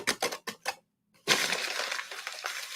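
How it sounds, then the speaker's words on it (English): Paper is ripped in a few short, sharp bursts, then after a brief silence it is crumpled in a long, continuous crackling rustle, close and fairly quiet. "Maybe I could combine some things and rip it and then crumple it."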